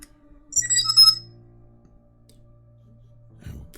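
Phone ringtone on an outgoing call to an 800 number, placed on speakerphone: a bright electronic ring burst near the start, then a low steady hum, fairly clear with no talk over it.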